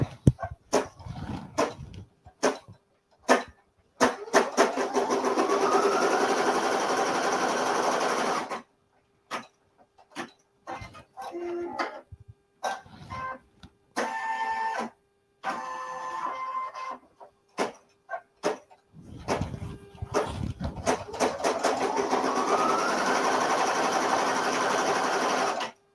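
An embroidery machine stitches a tack-down line on a pieced quilting project, running in rapid mechanical bursts with stops and starts between runs, loud and close.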